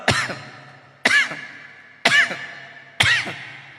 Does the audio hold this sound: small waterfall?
no